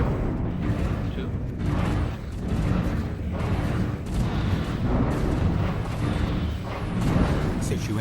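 Space battle in Stellaris with ships being destroyed, repeated booming explosions and weapon fire rolling in waves, while a person talks over the combat.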